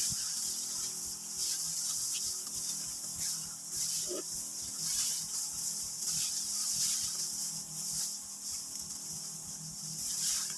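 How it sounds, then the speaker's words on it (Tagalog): Insecticide spray hisses over a rice paddy infested with rice bugs, coming in regular rhythmic bursts of spraying and pumping, close and fairly loud, with no talking. "Kaya ngayon, spray tayo muna."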